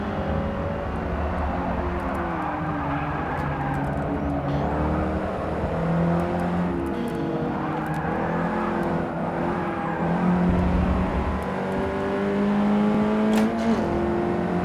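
Car driving in Forza Motorsport 6 with all-wheel drive, heard from the cockpit: a continuous whirring drivetrain and engine drone with rising and falling tonal sweeps and steady road rumble, fairly quiet engine note.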